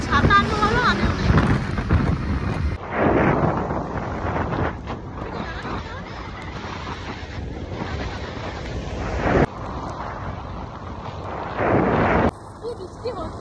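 Steady rain driven by gusty wind pours down outdoors in a broad, continuous hiss that swells and eases, with voices talking intermittently over it.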